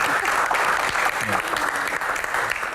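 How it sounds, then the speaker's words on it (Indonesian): A Q&A event audience applauds with dense, steady clapping throughout, while a voice speaks over the noise. "Tepuk tangan sekali lagi"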